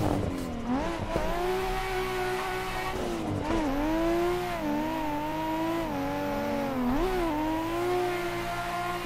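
A race car drifting in the Assetto Corsa game, loud and close, with a sustained engine whine that rises and falls as it revs, plus tire squeal through the slides.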